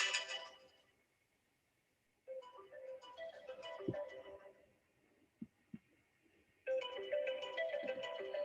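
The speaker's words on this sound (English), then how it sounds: "Sorry, my phone went off." A mobile phone ringtone goes off indoors, a repeating tonal melody at moderate level that plays for several seconds with short pauses, while people talk and move nearby.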